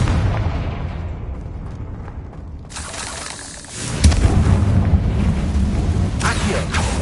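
In Hogwarts Legacy, a Confringo blasting spell bursts with a loud booming explosion about midway, followed by a dense rumbling roar and scattered crackling pops.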